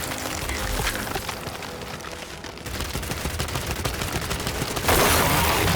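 Gears of War 5 combat gunfire, rapid bursts of shots crackling steadily over a rumbling battle bed, loud and close, with a harsher, brighter volley near the end.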